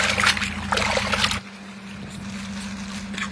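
Water poured into mutton biryani masala, a loud splashing pour in the first second and a half that stops abruptly, leaving a quiet hum behind.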